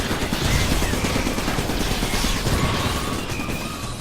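Dense gunfire from the video game Iron Brigade, a continuous loud barrage of rapid shots and explosive crackle with no pauses, alone without speech.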